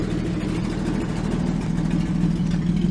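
A 1949 Chrysler 251 engine with fluid drive runs close by, a continuous low rumbling throb with slight rises in revs, heard alone without talk.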